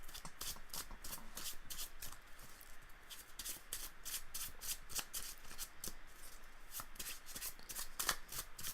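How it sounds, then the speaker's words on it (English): A Magic: The Gathering Commander deck being shuffled by hand, rapid repeated riffling bursts in a steady rhythm, close and fairly quiet, with no talking. "some quick shuffling"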